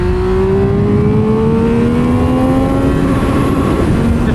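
A 2022 Triumph Speed Triple 1200 RR screams up through its rev range on a track, loud and close, with a fast GP-pattern shift that briefly drops the pitch before the engine climbs again.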